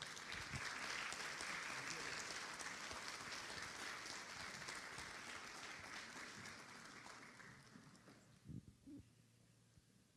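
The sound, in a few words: applause welcoming the university rector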